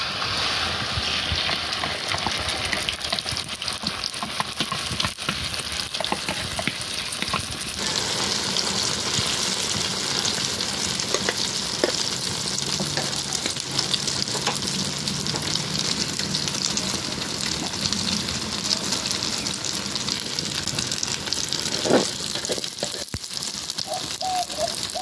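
Egg sizzling and frying in a pan for a Mexican egg torta with soyo, a continuous crackling hiss with occasional sharper pops and a brief stir midway, no talk.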